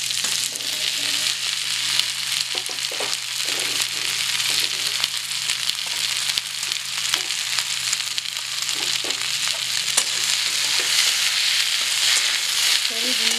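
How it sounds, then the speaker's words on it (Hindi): Okra (bhindi) frying in a hot pan gives a loud, continuous sizzle and crackle throughout, with occasional soft scrapes of a spoon and no talking. "अब मैं इसमें भिंडी डालूंगी।"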